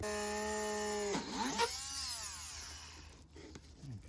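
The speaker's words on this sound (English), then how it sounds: "next we are going to drill 3 small holes at the rim." A power drill whines at a steady pitch, then bites into a plastic rim with a short grinding burst before the motor spins down and stops.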